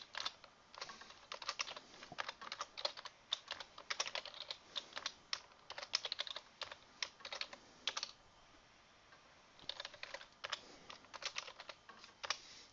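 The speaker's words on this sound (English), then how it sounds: "I'm going to type the word name" Someone types on a computer keyboard while entering words into a Microsoft Excel spreadsheet: quick, light clicking keystrokes come in bursts with brief pauses, close but soft, with no voices.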